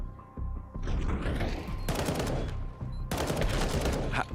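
Bursts of rifle gunfire in a professional Counter-Strike match at a major tournament, two dense loud volleys of rapid shots separated by a short lull, with no talking.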